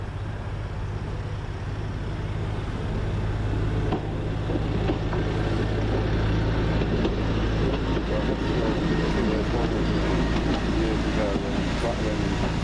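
A West Midlands Railway Stourbridge Shuttle unit pulls away from Stourbridge Junction station, a steady low engine drone and rumble running throughout, with faint voices nearby.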